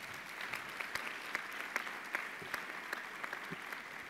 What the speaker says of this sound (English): So to us, a round of applause.